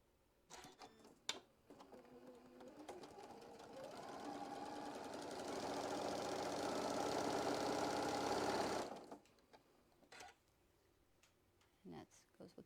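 A sewing machine stitches quilt block pieces in one continuous run of fast, even whirring and rattling lasting about five seconds, close and steady, with softer clicks and handling noises before and after.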